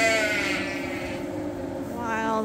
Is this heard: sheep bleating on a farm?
yes